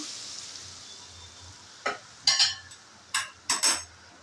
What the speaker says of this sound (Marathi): हे पहा फोडणी घालून घेत आहे